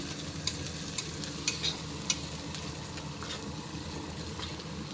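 Steady close-up sizzling of gram flour frying in a pan with garlic, with soft scraping from stirring and a few small crackles.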